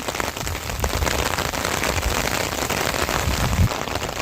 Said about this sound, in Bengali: আমি ছাতি ধরে দাঁড়িয়ে আছি বৃষ্টির মধ্যে, এই যে ছাতির মধ্যে দাঁড়িয়ে আছি আমি।